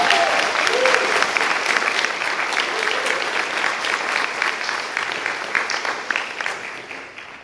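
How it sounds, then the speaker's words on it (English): Audience applause at a graduation ceremony, sustained and energetic clapping from a large crowd filling the room and gradually easing off. "let's have a huge round of applause for our MCs tonight, Johnny Vinley, Austin Ward, and Maya Weed,"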